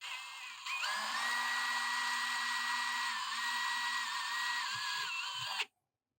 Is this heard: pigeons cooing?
no